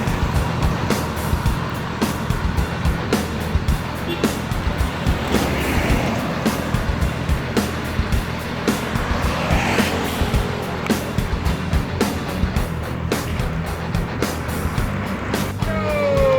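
A large intercity bus engine rumbles steadily nearby with clattering and hissing as the bus pulls in at a roadside in Indonesia; faint beeping near the end.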